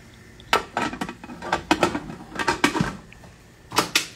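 A lid is set onto a cooking pot of beef simmered in beer, with several sharp metal clanks and clinks of pot and lid spread across the clip, close and fairly loud, with no talking.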